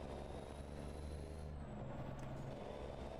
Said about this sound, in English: Man, this truck sounds awesome.